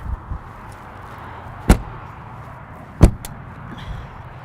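Two sharp, solid thuds of a 2021 Newmar Kountry Star 3717 motorhome's exterior door slamming shut, spaced about a second apart, over a quiet outdoor hiss.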